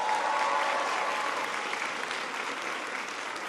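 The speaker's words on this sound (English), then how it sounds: "Give him a big round of applause." A large crowd applauds for a governor at a presidential education and economy event, loud, dense and steady clapping filling the whole stretch.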